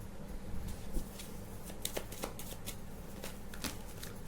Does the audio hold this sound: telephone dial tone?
no